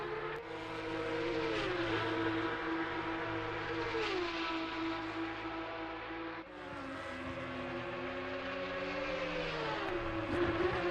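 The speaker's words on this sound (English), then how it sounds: "this camera positioning for the best sound from these Porsche Cup cars" High-pitched Porsche Cup race car engines shriek continuously in a racing simulator at Bathurst, pitch sweeping up and down through gear changes, loud and sustained with a brief dip midway.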